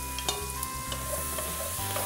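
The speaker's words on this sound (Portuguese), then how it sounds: "eu vou colocar as cebolas." Onions sizzle in a pan of leftover pork fat while being stirred, with a steady frying hiss and soft scraping sounds from the utensil.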